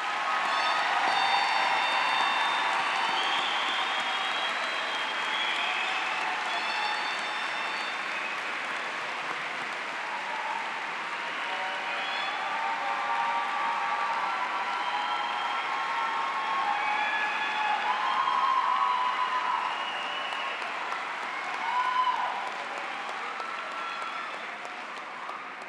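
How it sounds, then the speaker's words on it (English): Sustained applause from a crowd at a 2019 Anthony Wayne High School graduation ceremony, honoring the graduating class; dense, steady clapping with faint cheers, continuous and fairly loud throughout. "Let's give our graduates one more round of applause,"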